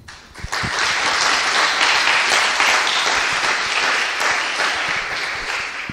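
A conference audience applauds a speaker after a talk, a loud, dense burst of clapping from many hands that holds for several seconds and tapers off.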